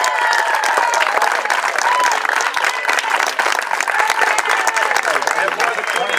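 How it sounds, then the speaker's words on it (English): Dense audience applause fills the air at a fast pitch softball tournament awards presentation in Maysville, steady and loud throughout, with scattered whoops and cheers mixed into the clapping crowd. "A great round of applause."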